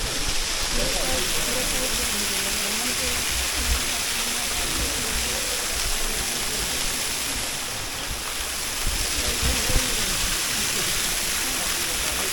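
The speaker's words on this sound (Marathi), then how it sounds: "आता आपण बाजूला असलेला धबधबा देखील पाहूया आता पाणी कमी आहे" A constant rushing roar of a waterfall at low flow fills the scene, steady and close, with faint voices murmuring underneath.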